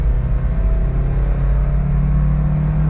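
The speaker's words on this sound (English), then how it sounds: "I'll downshift really quick. And the RPMs go high." A Daihatsu Terios engine revs high after a downshift, a loud, close, steady drone with a slight upward pull and no talking.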